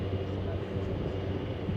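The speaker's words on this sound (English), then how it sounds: "And there it goes. It is in the air." A seaplane takes off from the harbour water near Canada Place on the Vancouver waterfront, its engine a steady low drone rolling at moderate distance, with voices faintly present.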